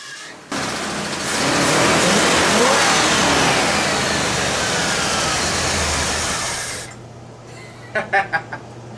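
A junkyard Ford Bullnose truck, converted from EFI to a new carburetor, starts up on a cold day and runs loudly and steadily for several seconds before shutting off, followed by a few sharp clicks.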